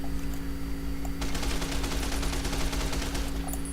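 Full-auto converted pistol in a Fallout: New Vegas mod firing a fast sustained burst of rapid shots after a short pause, steady and fairly loud over a low game hum.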